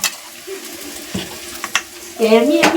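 Curry leaves tempering in hot oil on a stove: crackling, spattering sizzle with scattered pops, growing louder toward the end, with brief stirring or utensil sounds.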